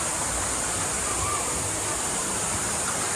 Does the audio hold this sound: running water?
yes